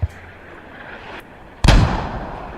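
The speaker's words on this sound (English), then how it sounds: "Mortars." Mortar fire in a military video game: a faint distant thump, then a sharp loud blast that rumbles and decays over a second or so.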